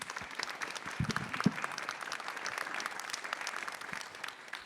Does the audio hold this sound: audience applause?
yes